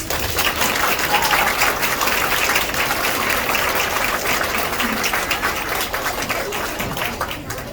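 Sustained applause from an audience at a middle school sixth grade awards ceremony honoring after-school staff, a dense steady clatter of many hands that holds near and loud throughout before easing slightly at the end.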